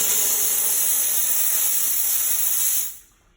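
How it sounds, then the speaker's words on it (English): Loud, steady hiss of a steam cleaner blasting a gold ring for about three seconds, then cutting off abruptly to near silence. "And I'm going to steam it off."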